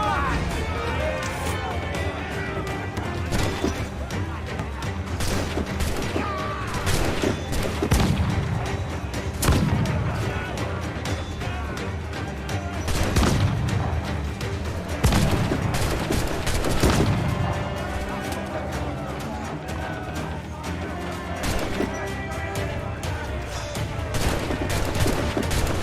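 Repeated booming cannon blasts and crackling gunfire during a naval battle in Assassin's Creed Black Flag, dense and continuous with shouting voices mixed in over the din.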